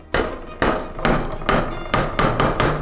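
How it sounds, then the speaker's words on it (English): A hammer taps the tip of a 1945 fishing rod section resting on a small anvil held in a vise, giving seven evenly spaced, sharp, close metallic knocks about half a second apart, each ringing briefly before the next. "I place the tip on a small anvil in the vise and tap it lightly with a hammer"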